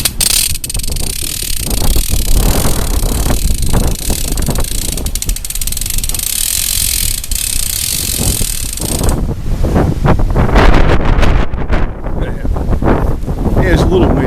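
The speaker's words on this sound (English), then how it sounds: "There's a little wind here, not much, but some." Wind blowing outdoors around a rope-pulling setup, steady loud gusty rush buffeting the microphone with faint mechanical clicks mixed in, building stronger toward the end.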